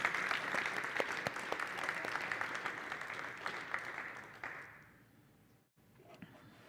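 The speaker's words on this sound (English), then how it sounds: "Can we have another little round of applause for these beautiful musicians?" A church congregation at a Unity spiritual service applauds musicians after a performance, with steady, dense clapping that fills most of the moment before tapering off and fading to near silence at the end.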